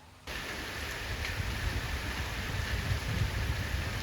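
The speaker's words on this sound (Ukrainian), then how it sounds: "Раптова злива сьогодні накрила Чернівці." A sudden heavy downpour over Chernivtsi, Ukraine, starts abruptly and holds as a dense, steady roar of rain hitting surfaces, loud and close with no voices.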